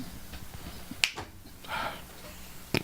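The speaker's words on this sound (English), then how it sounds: "Somebody clap, please." A person claps in a room during a podcast live stream: two sharp, isolated claps about a second and a half apart, with a brief soft rustle between them and no talking.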